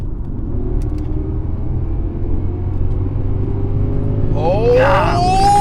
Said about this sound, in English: I think in sport mode, it'll actually start redlining.